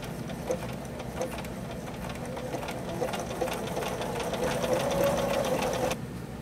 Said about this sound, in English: I'm going to sew the serpentine stitch right on the top there